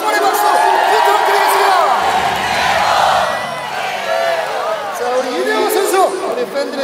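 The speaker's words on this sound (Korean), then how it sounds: "축하의 박수와 응원의 박수 부탁드립니다." Baseball fans in a stadium cheer and whoop after a win, a loud roaring crowd with shouts and chatter that dips briefly midway and then swells again.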